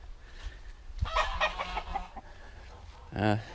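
Several bantam chickens cluck nearby in short, scattered bursts, with quieter moments between calls.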